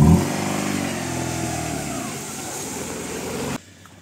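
Car engine idling and then pulling away on a forest route: a steady, close rumble that slowly fades and cuts off near the end.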